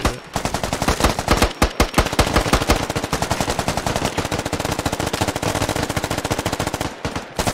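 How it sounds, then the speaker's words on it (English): Rapid automatic fire from an AK rifle in the military shooter game SquadOps rattles loud and close in long sustained bursts, with brief gaps near the start and end and no voices. "I can still shoot it."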